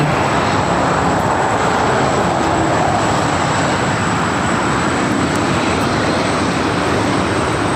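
Loud, steady broadband roar of a former Delta Air Lines MD-11 freighter at LAX, an unbroken engine rumble with no voices.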